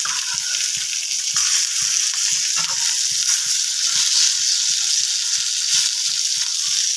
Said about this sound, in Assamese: কাটলা মাছখিনি ভালকৈ ফ্ৰাই কৰি লওঁ।